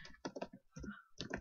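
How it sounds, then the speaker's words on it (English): Clacking keystrokes on a computer keyboard while programming in Visual Studio, coming in short irregular bursts of close, crisp taps with brief pauses between them. "today is not typing day for me"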